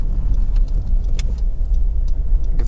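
A Honda CR-V 1.6 i-DTEC diesel SUV accelerates on the road, heard from inside as a continuous low engine and road rumble with faint rattles and ticks over the steady drone.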